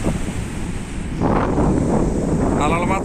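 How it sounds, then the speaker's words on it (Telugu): Sea waves surge and break on a beach, with rough, churning surf and strong wind buffeting the microphone; the roar swells louder after the first second and stays steady and close. "అలలు మాత్రం ఎగిసి పడుతున్నాయి."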